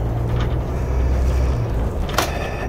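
An Intercity bus engine idles at a stop, a steady low diesel rumble with a constant throb, fairly close and continuous, a brief clatter near the end, no talk.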